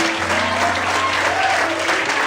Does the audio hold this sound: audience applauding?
yes